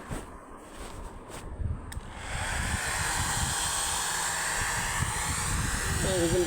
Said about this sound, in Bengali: এটা এমন একটা মেশিন আপনাদেরকে আমি দেখাচ্ছি যে কীভাবে ভেজা কাপড়গুলো শুকানো হয়